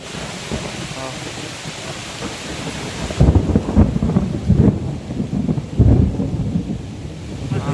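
Steady rain pours down while low thunder rumbles and rolls, growing heavier and closer halfway through, with wind buffeting the microphone.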